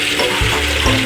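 Running water splashes steadily while vegetables are washed, a close, continuous hiss and trickle with a couple of louder low swells, no voices.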